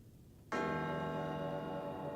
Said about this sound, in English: the bell sounds kind of scary to me